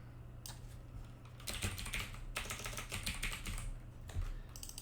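Typing on a computer keyboard while editing code: quiet, close clicking keystrokes in irregular bursts over a steady low hum, with no talking.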